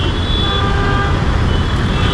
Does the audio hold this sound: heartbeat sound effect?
no